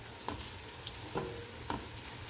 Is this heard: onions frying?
yes